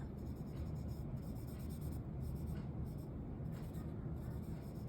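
Folded tissue rubbing over graphite pencil shading on paper, a steady soft scratchy friction that continues without pause, close and quiet, no speech.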